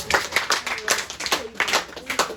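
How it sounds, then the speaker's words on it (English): A classroom group claps in uneven bursts during a history lesson, the sharp hand claps bunching into short rhythmic clusters mixed with voices. "A thunderous applause for that."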